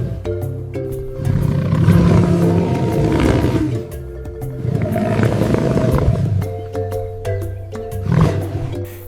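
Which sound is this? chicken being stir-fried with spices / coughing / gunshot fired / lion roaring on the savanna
lion roaring on the savanna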